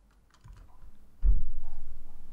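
Keys on a computer keyboard clatter in soft, faint taps at first, then a louder, denser run of typing, close to the microphone with no voices.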